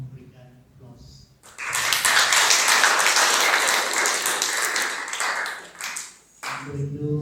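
A crowd applauds the newly married couple at a Batak church wedding, loud dense clapping that swells, holds for several seconds and fades, with a voice speaking before and after.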